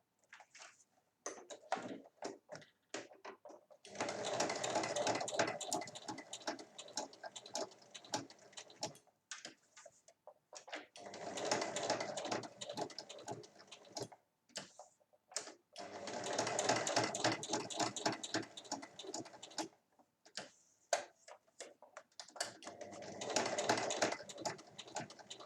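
A domestic sewing machine stitches velcro onto the closing tab of a fabric chequebook holder, running in several bursts of rapid mechanical clatter separated by short pauses with small clicks and handling noises.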